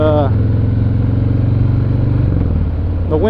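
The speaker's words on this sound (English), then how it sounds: "I really hope you guys can hear my bike still, you know." A motorcycle engine idles steadily and close, a low thrumming rumble throughout with a slight change in pitch near the end, as if it is revved a little.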